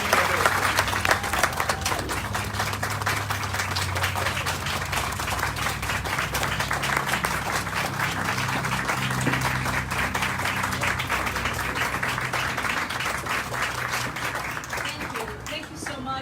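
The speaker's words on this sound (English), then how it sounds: "Let's all give a big round of applause to Dr. Andrea Flores." A standing ovation for Dr. Andrea Flores at a HOPE Clinic groundbreaking, with dense, sustained clapping from a sizable crowd that continues evenly for over fifteen seconds and tapers slightly at the end, with faint voices underneath.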